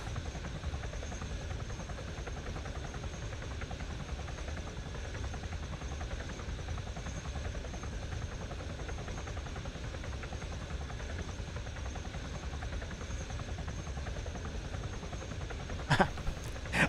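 Steady helicopter rotor drone from an aircraft held on auto hover in the Warlords combat video game, a continuous loud buzz filling the whole stretch without pause, with a couple of brief sharp clicks near the end.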